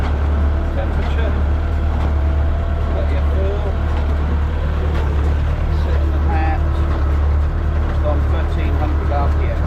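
A Massey Ferguson 575 tractor runs a New Holland 377 hay baler at low speed, a loud constant diesel drone with a deep rumble and faint mechanical clatter throughout, a voice talking quietly over it.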